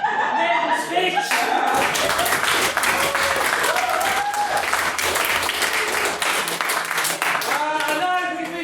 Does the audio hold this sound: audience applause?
yes